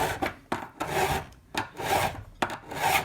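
A file rasps across a guitar fret during a partial re-fret on a Takamine EG341-SC G Series acoustic, in about five steady back-and-forth strokes, close and clear with no talking.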